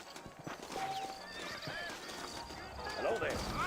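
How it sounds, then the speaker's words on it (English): Horses in the Red Dead Redemption game, set in the Old West, neigh and whinny with a high, wavering cry while hooves clip-clop nearby, all under steady conversation. "You ain't gonna find sturdier horses than these in all of New Ulster."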